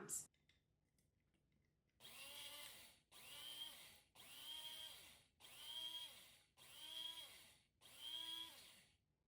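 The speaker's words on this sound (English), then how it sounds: "So I'll add half to the grinder, and I'm gonna pulse this 6 times." A small Krups electric grinder pulses homemade adobo seasoning six times, each whirring burst lasting about a second with a rising whine, separated by short silent gaps.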